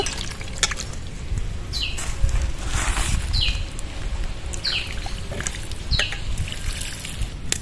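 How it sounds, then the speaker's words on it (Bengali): Water is tipped off washed raw mangoes, a steady trickling and splashing pour running continuously at close range, with faint repeated chirps in the background. "আমগুলো ভালোভাবে ধুয়ে নেব এবার জলটা ফেলে দেব"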